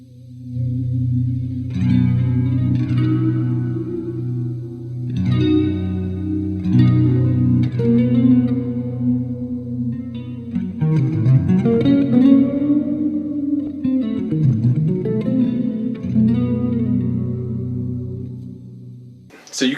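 A quiet, mysterious electric guitar solo opening drenched in chorus, echo and reverb, slow sustained notes swelling and bending over a low droning bed, played alone without speech.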